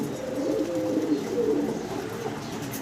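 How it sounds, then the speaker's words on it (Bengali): A pair of red Nun pigeons coos softly in low, rolling murmurs, close by and steady over faint background noise. "রেড কালারের রানিং এক জোড়া নান কবুতর দেখতেছেন"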